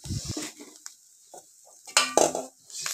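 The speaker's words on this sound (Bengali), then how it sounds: "এবার আমি নারকেল আর চিনিটাকে এইভাবে খুন্তির সাহায্যে নাড়তে থাকবো কিছুক্ষণ।" A spatula stirs grated coconut and sugar in a hot wok, making intermittent scraping and clattering strokes against the metal with quiet gaps between them.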